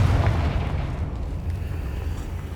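A Confringo spell explodes in the Hogwarts Legacy video game, a deep booming blast that opens loud and rumbles away over a couple of seconds.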